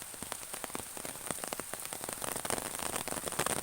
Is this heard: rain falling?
yes